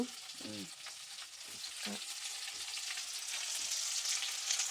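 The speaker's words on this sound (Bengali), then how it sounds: "আলু ভেজে নেব আলু ভেজে নিয়ে" Potatoes sizzle and fry in a pan with a steady, close hiss, broken early on by a few soft stirring knocks, and the sizzling grows slightly louder toward the end.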